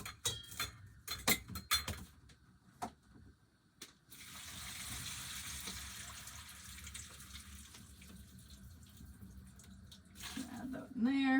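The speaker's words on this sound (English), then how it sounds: "I'm going to drain the liquid out of these" Hot cooked vegetable liquid pours out through a strainer in a steady running gush for several seconds, preceded by scattered clinks and knocks of kitchenware, with talk at the end.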